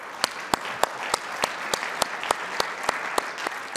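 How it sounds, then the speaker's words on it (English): Audience applause at a leadership forum talk on purpose at work, with a steady spread of claps and sharp, clearly spaced louder claps standing out roughly every third of a second, sustained and fairly close. "So big round of applause for you, Alexandre."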